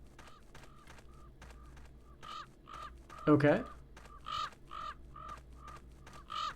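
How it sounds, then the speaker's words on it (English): In the Trespasser custom level Tres Dracul 3D, crows caw again and again in a steady rhythm at a moderate distance, while someone talks over them and gives one loud remark partway through. "There are crows in the sky."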